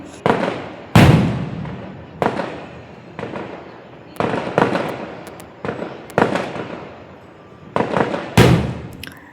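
Firecrackers burst one after another outside, sharp loud bangs at irregular intervals, each followed by a crackling echo.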